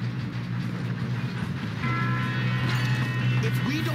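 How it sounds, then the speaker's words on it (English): A steam-era train in Red Dead Redemption 2 runs with a loud, continuous rumble and clatter, and a sustained metallic whine swells in the second half. "We have to stop this train."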